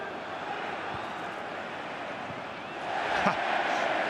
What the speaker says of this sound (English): Huge cheer for the overhead clearance.